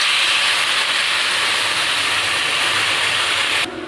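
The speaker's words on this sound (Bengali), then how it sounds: "এবার জল দিয়ে দেবো।" Water poured into a hot pan of cooked-down tomatoes, giving a loud, steady, broad sizzling hiss that cuts off abruptly near the end, close and without talk.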